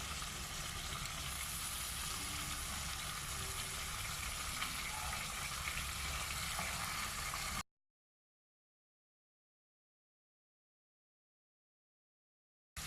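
Chicken sizzles and fries steadily in a pan over a medium-high flame, a dense continuous crackle for several seconds that then cuts abruptly to silence.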